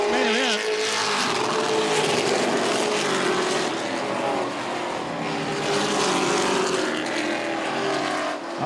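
Racing trucks roar around the track in a Texas truck series main event, a loud, continuous wall of engine noise as the field strings out, with the engine pitch rising and falling and an announcer talking underneath.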